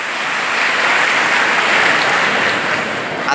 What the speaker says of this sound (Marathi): आपले जिल्हाध्यक्ष निलेश वसावे सरांसाठी एकदा जोरदार टाळ्या वाजवल्या पाहिजे